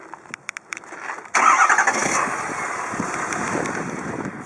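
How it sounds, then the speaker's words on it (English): A 2017 Ford F250 Lariat pickup is started: a few short starter clicks and cranks, then the engine catches with a loud roar and settles into a steady idle, recorded close with some wind noise. "You can crank it, kill it."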